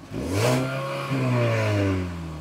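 A Mazda CX-30 fitted with an ATH sport exhaust revs up twice in quick succession, the engine note climbing sharply each time and then settling into a steady, throaty drone, close and loud with no talking.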